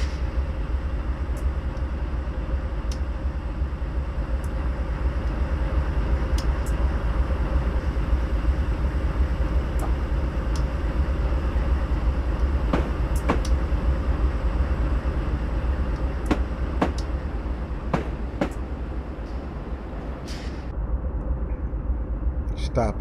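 A train rolls along the Miami to West Palm Beach route in Train Simulator 2017, a constant low rumble of wheels on rails with occasional sharp clicks over the track, loud and steady throughout.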